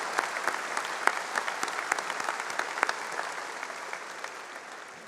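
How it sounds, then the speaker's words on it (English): Audience clapping at a 2019 Staunton River High School graduation ceremony, a dense spread of individual claps with sharp close hits, gradually thinning and fading toward the end. "Let's give them a round of applause"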